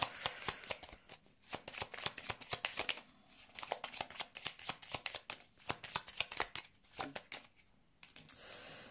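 Tarot cards are shuffled close up in a fast, steady riffle of crisp flicks, pausing briefly a few times before resuming, with no talk over it.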